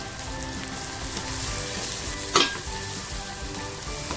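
Red chili masala hits hot oil for a tangy-sweet tomato chutney, giving a steady frying sizzle with stirring scrapes and one sharp crackling burst midway, with no talk.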